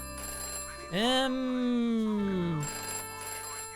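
An old telephone in the Fallen Aces video game rings with a loud electronic bell tone that swells and falls over a couple of seconds, and a voice briefly speaks beneath it.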